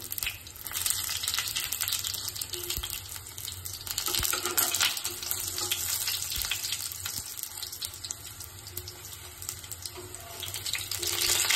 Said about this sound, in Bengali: বড়াগুলোর এক পাশ ভাজা হয়ে গেলে আমরা আস্তে করে বড়াটা উল্টে আরেক পাশ দিয়ে দিব